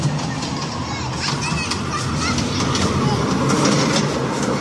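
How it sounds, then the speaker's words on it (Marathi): A small garden ride train rumbles along steadily beneath a noisy outdoor crowd with children's voices. "दोघांची ट्रेन चालू झालेली आहे"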